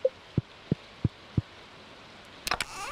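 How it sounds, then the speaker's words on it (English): Rain in the farming video game Stardew Valley, heard as a soft steady patter with a few distinct dull drops at regular intervals, followed by a brief louder splash near the end. "and it's, raining."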